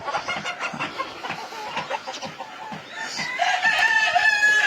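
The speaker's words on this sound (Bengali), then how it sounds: "এখানে হচ্ছে ফাউমি মুরগি অরিজিনাল মিশরীয় ফাউমি মুরগি এখানে আছে" Egyptian Fayoumi chickens on a poultry farm give a run of short, rhythmic clucks close by, building toward louder, longer calls and crowing near the end, with no talk.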